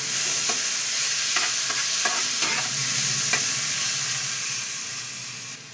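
Onion paste, ginger paste and soaked cumin-coriander powder fry and get stirred in a pan for a Bengali katla fish curry with spinach, a steady close sizzle broken by several sharp scrape strokes, fading slightly at the end.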